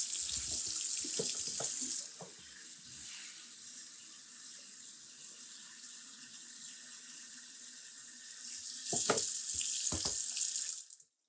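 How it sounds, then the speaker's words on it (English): Tap water pours steadily into a bucket during a tarnish-cleaning job, a continuous close splashing rush lasting about eleven seconds, with a few knocks and clunks near the start and again toward the end before it cuts off. "Okay, so I'm going to put some more water in here."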